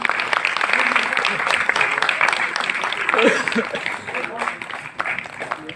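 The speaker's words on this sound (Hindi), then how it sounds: "जोरदार तालियां चाहिए आपकी।" Audience applause fills an auditorium at a Uttarakhand literary honour ceremony, a dense steady patter of many hands sustained throughout, with a few voices and light laughter mixed in.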